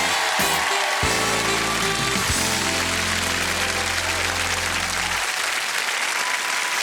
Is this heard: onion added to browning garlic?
no